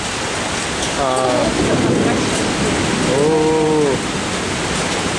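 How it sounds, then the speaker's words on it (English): Heavy rain falls steadily in Toronto as a dense, loud, continuous hiss, while someone briefly speaks and exclaims twice over the downpour. "Yep, it's raining, mate."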